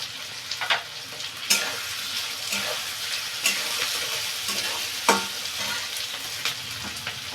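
Chicken pieces fry in a pan for chicken chilli as chopped ginger is scattered over, a constant close sizzle punctuated by several sharp spatula scrapes and stirring clacks.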